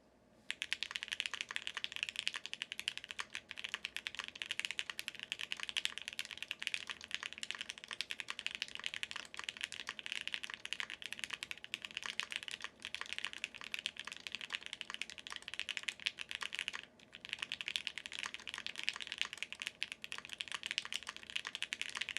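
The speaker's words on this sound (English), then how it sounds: "I'm just going to type on it again because it sounds so good." Steady, continuous typing on a Space 80 Apollo TKL mechanical keyboard fitted with Gateron Oil King switches, close and clear with dense keystrokes running alone throughout, a brief pause near the end.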